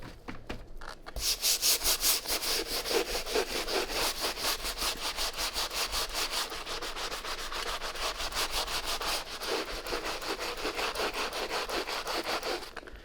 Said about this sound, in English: we are going to use FZ150's stiff bristle brush